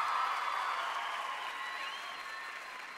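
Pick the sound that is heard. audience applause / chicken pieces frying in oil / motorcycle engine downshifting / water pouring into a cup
audience applause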